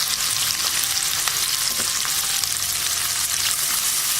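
Sliced onions with curry leaves and salt fry in hot oil in a pan for a tomato kurma, giving a continuous, close, crackling sizzle that runs without pause.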